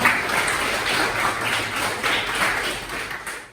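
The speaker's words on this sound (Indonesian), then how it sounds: "beri aplaus pada jawaban Mbak Gita" Applause from students in a classroom after a student's answer, a dense, steady clapping that continues evenly for several seconds at close range before tapering slightly at the end.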